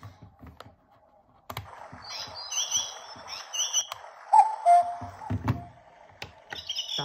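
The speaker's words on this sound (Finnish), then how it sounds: "Yksi on tää linnunlyverrys." Birdsong ringtone from a Seiko alarm clock, chirping and warbling electronic bird calls in bursts mixed with a few clicks and handling taps, heard close up with no talk.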